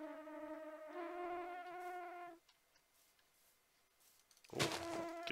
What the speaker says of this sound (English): Let's see if those wasps are still out there.